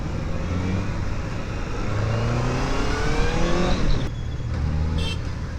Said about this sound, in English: It is a 600cc 4 inline 4 and it is making a very good sound.